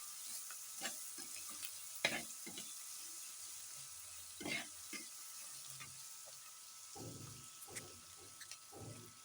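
Chopped onions and green chillies sautéing in a pan for a home-style mutton curry, a low steady sizzle broken by repeated scraping stirs of a spatula against the pan, fairly quiet and close, with no voices.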